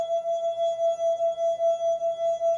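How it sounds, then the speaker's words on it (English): A drinking glass with water inside, played by rubbing its rim, sings one steady, loud, pure ringing tone with a gentle, regular pulsing throughout. "If I play this glass hard, watch the water in the glass."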